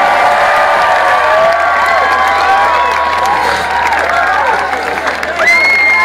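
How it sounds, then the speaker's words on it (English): Large outdoor concert crowd at a Bootleg Beatles show in Victoria Park, Bath, cheering, whistling and clapping loudly and steadily for the orchestra, a dense roar of voices throughout with a sharp whistle near the end. "will you please give one more cheer for our fantastic orchestra"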